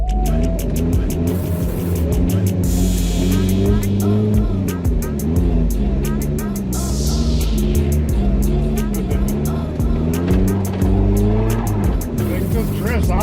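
A 5-speed Nissan D21 Hardbody truck set up for drifting slides on frozen lake ice, its engine revving hard and continuously, pitch swooping up and down as the throttle is worked, with tire noise running through the loud drive.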